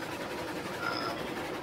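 A train rolls along the track in the railroad simulation game Railroads Online, heard as a steady, even rumble of running noise that stays constant throughout with no talk.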